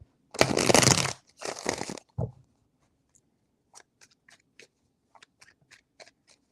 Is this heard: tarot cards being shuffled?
yes